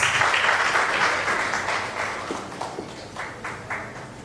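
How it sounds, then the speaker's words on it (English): An audience applauds at a corporate rewards and recognition ceremony, a loud burst of clapping that slowly thins and fades, with a few distinct claps near the end. "Round of applause"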